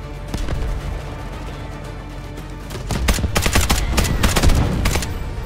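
Incoming artillery fire in the video game Delta Force Hawk Ops pounds the battlefield. Scattered blasts build into a loud, dense barrage of booming impacts during the second half, with no one talking.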